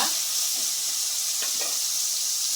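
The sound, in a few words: tomato frying in oil with onions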